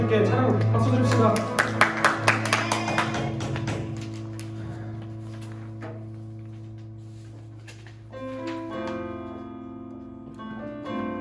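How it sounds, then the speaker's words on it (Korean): A youth worship congregation claps in praise, a run of sharp, rhythmic hand claps over sustained sung and instrumental tones that fade into quieter music. "하늘에 계신 주님께 찬양 박수 드립시다."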